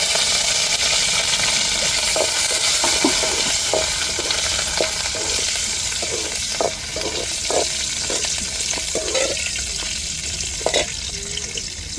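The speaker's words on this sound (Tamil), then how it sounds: "கடலை பருப்பு நல்லா நிறமாக வரணும் தாளிப்புக்கு சின்ன வெங்காயம் சேர்த்துக்கிறோம்" Chana dal and small onions frying in hot oil for a tempering, a continuous loud sizzle with repeated scraping stirs of a spoon against the pan, no voices.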